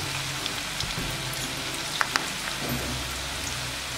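Cauliflower pakoda fries in oil, sizzling and crackling steadily close by, with a couple of sharper pops standing out above the constant frying hiss.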